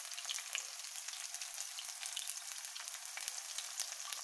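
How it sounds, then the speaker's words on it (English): Carrots fry in a pan for instant fried noodles, a bright, continuous hissing sizzle dotted with quick crackling pops, steady and close with no voices. "So we will fry first this one."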